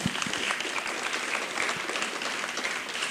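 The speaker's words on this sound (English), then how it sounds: "A round of applause." An audience applauds, a dense, continuous patter of many hands clapping at moderate volume for the whole stretch, slightly distant and without talk.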